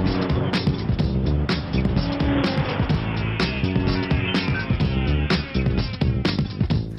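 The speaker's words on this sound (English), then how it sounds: "Let's take a run in the 2013 Audi S6 and check the tech." A 2013 Audi S6 is driven hard, its engine roaring loud and close with sharp surges and tire noise as it accelerates and shifts repeatedly.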